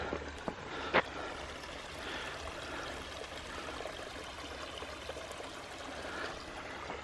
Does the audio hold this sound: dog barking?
no